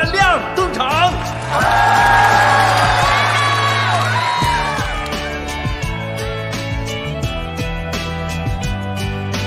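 An audience at a live stage show cheers loudly with high whoops and shouts as a performing group is brought on. A thumping musical backing comes in partway through and continues under the fading crowd noise.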